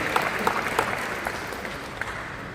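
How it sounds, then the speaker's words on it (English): Audience applause at a college head basketball coach's introductory press conference, a steady wash of clapping from a room of listeners with a few sharper claps standing out, fairly even and moderate in level, no talk over it. "Please give them a warm round of applause for being here this afternoon."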